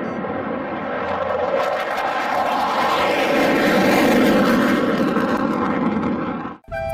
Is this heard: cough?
no